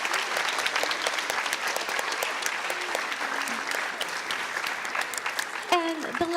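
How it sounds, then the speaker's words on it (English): A school audience at a kindergarten music program claps for an art teacher, steady mid-distance applause with scattered whoops throughout and a brief shout near the end. "Please give her a nice round of applause."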